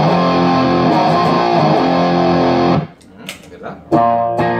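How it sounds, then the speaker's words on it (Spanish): Heavily distorted, thick electric guitar tone through a gear setup modeled on one used on a concert tour, loud and sustained for nearly three seconds, then a brief gap of quieter noise before the distorted chord returns. "de por sí este tipo de amplificador ya suena grueso, ya suena muy cargado"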